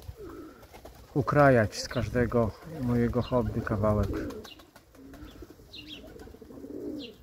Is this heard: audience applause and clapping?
no